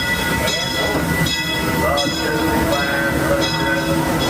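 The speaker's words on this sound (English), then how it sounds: "Disneyland Railroad, now leaving for a complete trip around Walt Disney's Magic Kingdom." Disneyland Railroad train at a station in the Magic Kingdom, a steady rumble of the rail cars with a sustained mechanical hum and faint tonal lines, continuous and fairly loud throughout.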